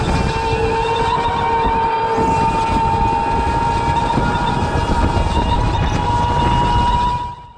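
Rental go-kart lapping the adult track at FastTrax Entertainment, a steady loud engine drone with a constant whine, running near full throttle throughout and fading out at the very end.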